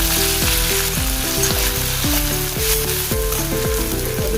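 Sliced tomato and spices fry hard in a pan for an aloo matar masala, a loud continuous sizzle with rhythmic scraping strokes of a spoon stirring roughly every half second.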